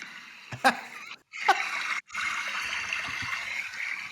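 River water splashes and trickles close by in a voice memo, with a few sharp splashes and brief cutouts, then a steady rushing flow.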